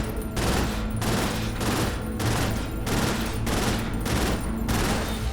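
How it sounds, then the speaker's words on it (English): Burst machine gun firing in the video game Cryptark, loud rapid bursts repeating in a steady rhythm, roughly five or six even volleys back to back with brief gaps between them. "And this is our burst machine gun."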